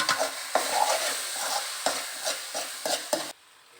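Tomatoes frying with chili powder while a spoon stirs them, a continuous close sizzle broken by regular scraping strokes against the pan that stop abruptly near the end.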